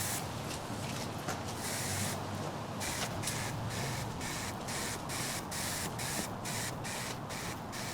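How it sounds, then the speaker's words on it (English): A light water mist is sprayed over a dry-poured concrete slab, giving a steady, continuous hiss with a run of short rhythmic pulses partway through, close and unbroken throughout. "so here we go with the first light mist over the top"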